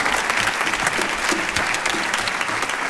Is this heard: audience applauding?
yes